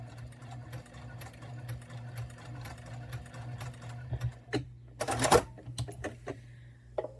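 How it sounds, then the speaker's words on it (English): A sewing machine runs a steady stay stitch along a fabric pot holder, its motor humming in an even whir with a light rhythmic clatter, close and continuous, followed by a few handling knocks and rustles near the end. "And this is just a stay stitch, so I'm not worried about back stitching at this point."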